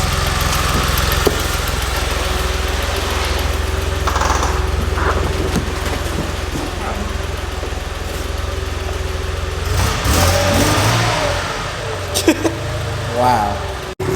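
Audi R8 V8 engine running steadily with a deep low rumble, swelling louder around the middle as it revs, with scattered knocks and clicks near the end.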